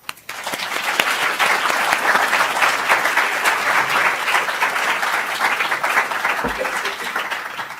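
Audience applause greeting lecturer John Mearsheimer at his talk on liberal dreams and international realities, a steady, dense clapping from a large crowd sustained for several seconds before tapering off.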